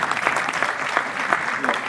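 Audience clapping steadily through a short burst at a business talk on the economy, a dense, continuous applause from a seated crowd with no voices on top.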